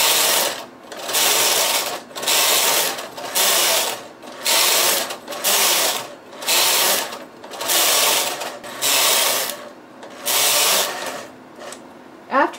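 A knitting machine carriage runs back and forth over multiple lace transfer rows, making a loud, even series of about ten mechanical whirring passes separated by brief pauses.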